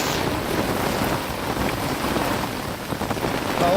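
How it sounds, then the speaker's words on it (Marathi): Heavy rain starting during net fishing for crabs, a steady dense wash of downpour with wind buffeting the microphone, continuous and fairly loud throughout with no one talking. "भाऊन पावसाची आहे ना सुरुवात जोरदार झाली."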